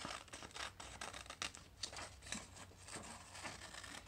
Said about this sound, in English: So let's go ahead and cut this down here.